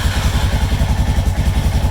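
A TGB Blade quad bike's engine runs without choke after sitting for a couple of hours, with a loud, close, steady rhythmic chugging and mechanical clatter throughout.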